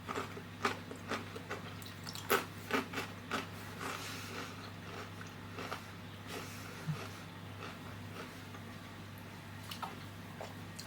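Crunchy bites into a freshly baked sourdough-starter treat, a few sharp crackling crunches early on, then softer chewing over a steady low background hum.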